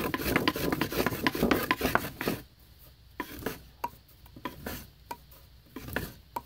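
Fire roll friction with a tinder roll of yucca leaf fibers and wood ashes rubbed hard between boards, a fast continuous rasping for two seconds, then shorter separate rubbing strokes at a steady rhythm, close and alone.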